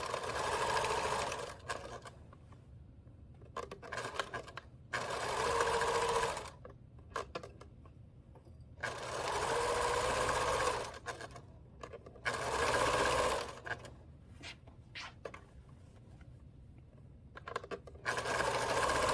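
A sewing machine stitches a quilt binding with an accent strip, running in several loud bursts of steady whirring with short pauses between them, close up and with no talking.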